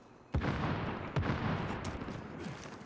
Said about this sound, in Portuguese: Estão trocando tiro com o cara do mercado